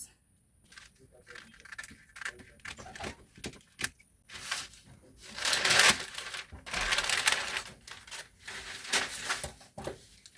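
Scissors cut through material for homemade shoulder pads, giving a run of close crunching snips and rustles that build in the middle, with a voice speaking over parts of it.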